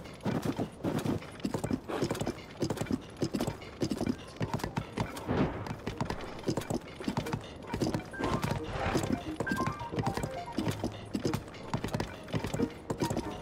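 Horse hooves clip-clop in a steady, rapid rhythm, fairly close, with no talking over them, in The Legend of Zelda: Tears of the Kingdom.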